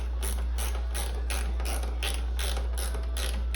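A ratchet wrench clicks in a steady, rapid rhythm while lightly tightening a fastener on a fiberglass sidecar for a 2003 Harley-Davidson Electra Glide, close and continuous with no talking.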